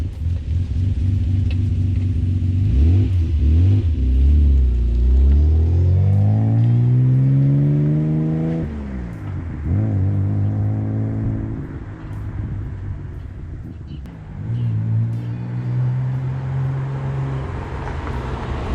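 A Nissan 300ZX Z32 drives past in a few passes, its engine note climbing and falling in pitch as it approaches and recedes, loud and near without hard revving, the pattern repeating over the clip with no talking.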